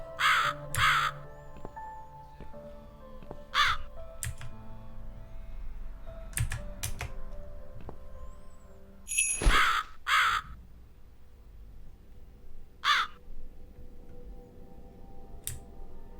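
A rude bird in the video game The Cat Lady caws in sharp, irregular bursts, paired at first and then spaced out, mixed with clicky keyboard-like ticks and a low rumble, all close and loud against a quiet drone.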